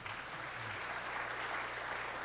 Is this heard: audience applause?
yes